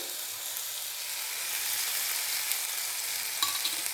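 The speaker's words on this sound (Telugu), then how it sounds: "టమోటాలు బాగా వేగిపోయాయండి ఇప్పుడు బాగా వేగిపోయాక ఇందులో మనం అల్లం వెల్లుల్లి పేస్ట్ వేసుకుందామండి" Tomatoes fry with ginger garlic paste in a hot pan, giving a close, steady hissing sizzle with faint stirring scrapes and a few small pops toward the end.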